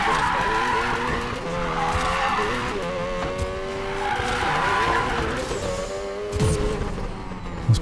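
A car braking hard and skidding in Need for Speed Payback, with long tonal tire squeals sliding in pitch over engine roar, repeated several times, then a sharp thump near the end.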